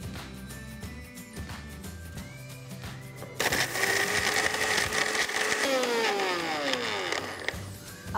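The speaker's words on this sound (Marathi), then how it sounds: "आता आपलं गोड्या मसाल्याचं मिश्रण थंड झालेलं आहे, ह्याला एका मिक्सरच्या भांड्यात टाकूया।" A mixer grinder grinds cooled, roasted goda masala spices for masale bhaat. The motor starts abruptly partway through with a loud, steady whir and rattle, then winds down near the end. Quieter kitchen handling comes before it.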